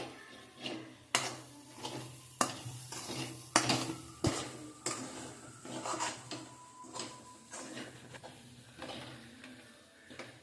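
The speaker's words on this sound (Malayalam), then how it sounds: "മസാലയുടെ പച്ചമണം മാറുന്നത് വരെ നമ്മൾ ഇളക്കിക്കൊണ്ടിരിക്കണം" A spoon stirring spiced masala in a metal pan while making spicy pasta, with repeated scraping and clinking strokes in an irregular rhythm, fairly close and moderately loud, no talking.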